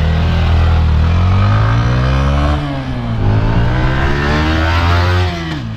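A Yamaha R15 V4 motorcycle engine revs loudly and close, its pitch climbing steadily, dipping briefly and then rising again in a sustained roar.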